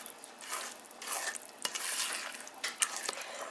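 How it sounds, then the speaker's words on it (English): Dry carrot cake ingredients stirred together in a bowl, a soft, uneven swishing and scraping with a few light clicks of the utensil against the bowl, close by and with no talking. "Just stir that all around. Make sure all the dry ingredients are mixed together nicely."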